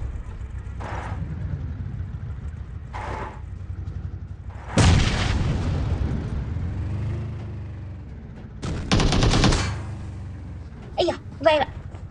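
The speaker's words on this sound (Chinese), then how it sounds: "枪声" Gunfire in a shooting video game: scattered loud booming shots and a heavy blast sound over a constant low engine rumble, interspersed with short sharp cracks.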